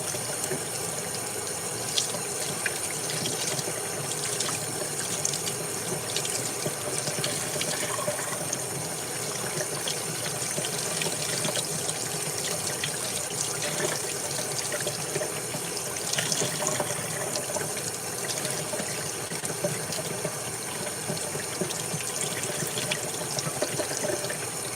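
Tap water runs steadily over a Crissy family doll's hair at a sink, a continuous close, even rushing stream that stays alone and unbroken throughout.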